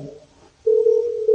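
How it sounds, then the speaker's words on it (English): A telephone sounds a short low tone, pauses briefly, then a steady, loud, clear single-pitch tone holds for most of a second before a click cuts it off. "That was the phone."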